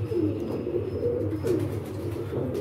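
Pigeons produce repeated soft, rolling coos up close, a looping low warble with a faint high tone running through the first half and no voices.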